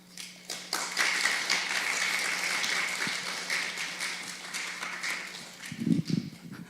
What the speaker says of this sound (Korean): 우리 장희성 교수님 나오실 때 박수로 환영해 주시면 감사하겠습니다